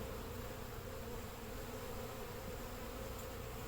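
A thick, unbroken buzz of many honeybees fills the air around hive splits, steady and close throughout, with no talking.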